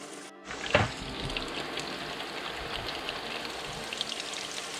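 Chicken pieces frying in a pan for a Dr Pepper chicken dish give a steady, even sizzle that starts just after a brief quiet moment and carries on close up, with a sharp crackle near the start and no talking.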